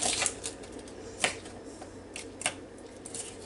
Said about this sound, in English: We're going to cut up the celery in small pieces.